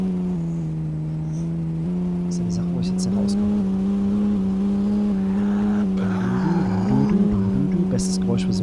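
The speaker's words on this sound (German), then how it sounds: "bestes Geräusch für so ein Fahrzeug. Immer noch." Engine of a vehicle in the zombie survival video game No One Survived, a steady low drone with shifting pitch that runs through the whole stretch, with a few brief higher clicks and sounds over it and no talk.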